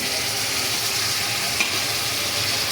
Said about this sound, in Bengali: পেঁয়াজ সুন্দর করে লাল লাল করে ভাজলাম। এখন আমি দিয়ে দিব চিকেন।